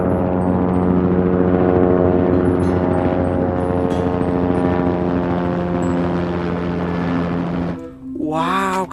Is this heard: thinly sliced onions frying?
no